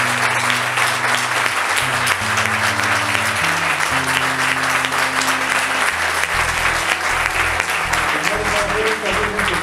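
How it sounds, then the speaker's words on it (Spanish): At a book launch for El Efecto Midas hosted by the LEGO retailer electricBricks, the crowd gives the boss a strong, sustained round of applause, thick and loud throughout, over low music with shifting tones. "Pido un fuerte aplauso para el boss"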